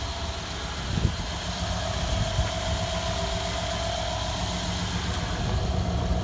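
A 2013 Mercedes GL450 with a twin-turbo V8 idling, a steady low rumble with a faint whine layered on top, close and continuous with no voices.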